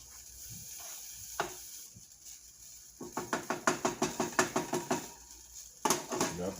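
Sweet peas boil in a pot while a spoon stirs them, giving a run of quick, rhythmic knocks and scrapes against the pot over a low bubbling background, with a few louder clanks near the end.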